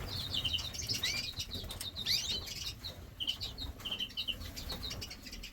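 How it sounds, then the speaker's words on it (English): Three young greenfinches in a flight cage give quick, high chirps in short clusters while wings flap in soft bursts, all fairly close and faint over a low background rumble. "So here we have 3 young greenfinches from the second nest"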